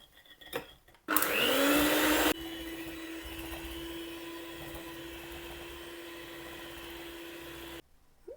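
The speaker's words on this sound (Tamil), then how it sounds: "இப்போ இதில் பட்டரும் சீனியும் சேர்த்து அடித்து விட்டுட்டோம்" An electric mixer whirs loudly as it beats butter and sugar for banana cake, first a brief high-speed burst, then a steady lower hum lasting several seconds before it cuts off, with faint clatter at either end.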